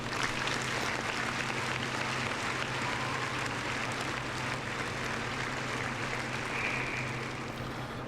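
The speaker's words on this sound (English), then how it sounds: "Round of applause." A podcast audience applauds steadily throughout, a dense, even wash of clapping with no pauses and no talk on top.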